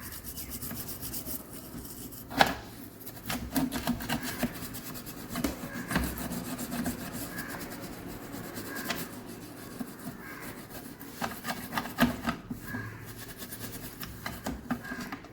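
A brush scrubs the inside of a mixer grinder jar in quick, close rubbing strokes that come in uneven bursts with short pauses between them.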